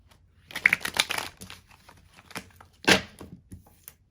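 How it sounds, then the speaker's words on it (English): A deck of tarot cards is shuffled by hand in quick riffling bursts, a flurry of papery flicks followed by a pause and one more sharp shuffle. "Let's give it one more shuffle."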